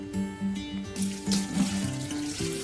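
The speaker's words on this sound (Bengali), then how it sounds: "আবারও আর একবার ধুয়ে নিব ধুয়ে নিয়ে পানি ছড়ায় নেব" Tap water runs steadily into a sink as beef liver is rinsed for curry, with splashes and a brief surge partway through and a faint steady tone underneath.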